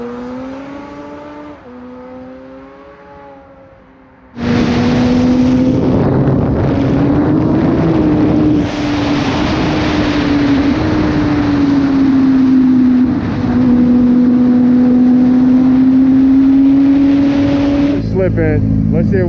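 K6 Suzuki GSX-R 600 motorcycle with a slipping slipper clutch, engine revving hard and holding a loud, steady high-rpm drone that rises and falls slightly, close to the microphone with wind noise, after a quieter idle.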